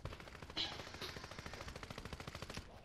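Rapid bursts of gunfire from the Fortnite video game, a fast regular stream of shots with a few louder cracks, fairly faint in the game mix with no talk over it.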